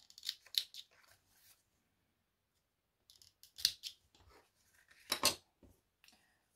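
Scissors snip through craft ribbon in three quick bursts of crisp cutting, close and clear, with quiet pauses between and no voices.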